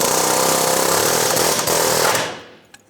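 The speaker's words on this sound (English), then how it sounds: "We're going to use an air hammer with a chisel bit." An air hammer fitted with a chisel bit rattles hard and continuously at close range to knock a wheel hub bearing out of a 2008–2017 Buick Enclave. It runs loud for about two seconds, then cuts off and leaves a brief clank.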